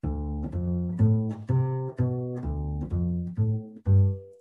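A deep, plucked bebop bass line, played down an octave, walks through a run of separate notes in a steady, swinging rhythm, each note ringing briefly before the next.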